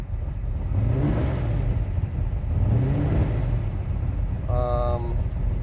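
A big-block 502 engine in a 1970 Chevrolet Nova idles loudly nearby with a deep rumbling drone that swells twice, and a brief horn tone near the end.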